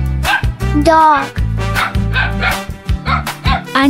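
A dog barks and yips repeatedly in short, close bursts, some whining and pitched, over a steady rhythmic background beat.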